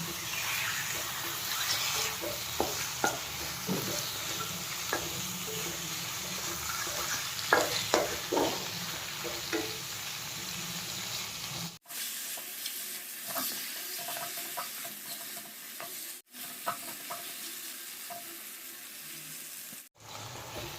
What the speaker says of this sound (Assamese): মাংসখিনি দি পিনে ভালকৈ লৰাই ল'ম।